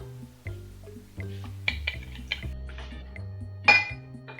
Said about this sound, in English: Then I'm just gonna mix that up with a spoon.